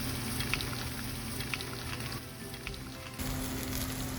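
Tortillas and meat for mini street tacos sizzle on a comal in a close, steady crackle that dips briefly before resuming.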